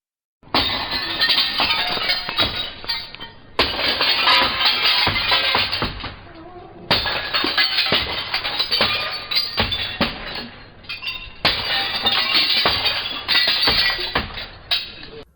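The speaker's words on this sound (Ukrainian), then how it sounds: "Навіть зафільмувала момент, коли той трощив скло." Window glass being smashed at night, heard as repeated bursts of crashing and clinking shards in several loud episodes separated by brief pauses, recorded from close by.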